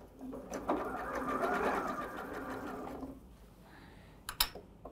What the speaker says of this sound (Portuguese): agora eu posso costurar